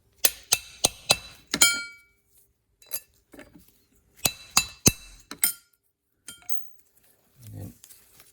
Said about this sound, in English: Tap it with the end of a screwdriver normally.